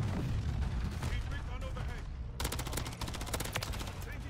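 Renetti pistol fire in Modern Warfare 3, with a rapid run of crisp shots in the second half that follows steady gameplay noise and rumble.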